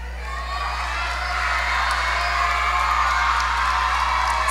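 A graduation audience cheers and whoops for the high school class of 2023 in the Bahamas, a steady loud crowd roar that swells slightly, with scattered shouts and a constant low hum underneath.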